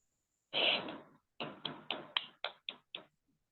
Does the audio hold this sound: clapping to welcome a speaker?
yes